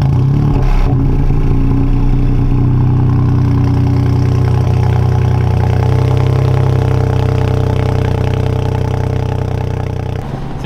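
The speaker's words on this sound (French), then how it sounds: "est-ce que tu peux nous démarrer la voiture s'il te plaît?" A 1.5 litre turbo car engine starting and settling into a steady idle, loud and close, with a brief rev at the start and a smooth droning hum that continues to the end.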